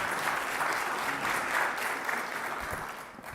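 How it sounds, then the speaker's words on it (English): Sustained audience applause fills a conference session hall at a data week event, steady dense clapping from a crowd that holds level and begins to thin toward the end. "So, round of applause."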